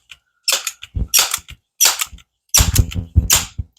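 A Crosman 1377 air pistol fires Apolo 9.0 domed pellets offhand at close range, several sharp snapping shots with short mechanical clicks of cocking and loading between them, loud and near.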